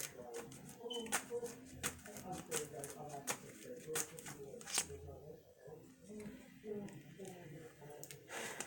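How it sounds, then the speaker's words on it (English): Tarot cards being shuffled close up, a rapid run of crisp riffling snaps and flutters, with soft talking in the background. "I'm just gonna shuffle really good."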